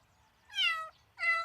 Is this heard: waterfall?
no